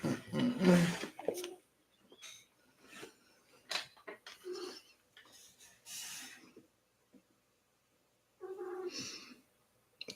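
A pet cat at bedtime on a bed gives several drawn-out, growly vocal calls, loud and close, with a person speaking briefly between them in a quiet room.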